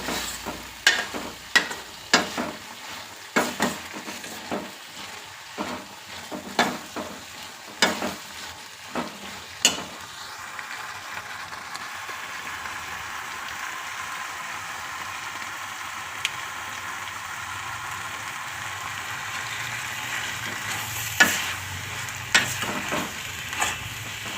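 Sundekai (turkey berries) frying in hot oil, with a steady sizzle and a series of sharp pops and spatters, frequent early on and then sparser, close and fairly loud with no talk.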